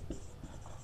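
Marker or chalk writing on a board during a physics lecture, a short soft scratch of strokes, faint and close, with no talking.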